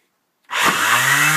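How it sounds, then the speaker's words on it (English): An electric sander kicks on after a brief silence and runs loud and steady, grinding markings off a pipe coupling up close. "So I'm going to turn my sander on, and I'll just put it on the top like that"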